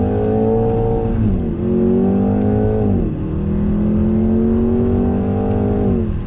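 A 2020 Jaguar F-Type Checkered Flag Edition, rear-wheel drive, pulls away in first gear with a loud, steady engine drone that climbs in pitch, dips briefly at about 1.5 and 3 seconds as quick shifts land, then keeps rising.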